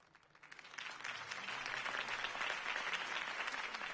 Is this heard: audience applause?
yes